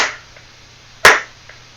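A single sharp hand clap made as an audio level test while setting up a recording, loud and close, after a faint trailing sound at the start, with quiet room tone around it.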